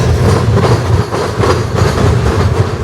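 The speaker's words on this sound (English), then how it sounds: "There's a train right there." Loud, close freight train passing at Fostoria, a heavy rhythmic clatter of wheels over rail joints with rumbling body noise filling the whole moment.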